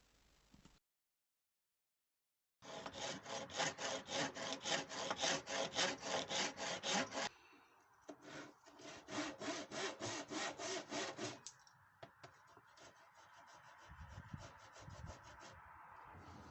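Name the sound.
sawing oak tenon shoulder for a medieval table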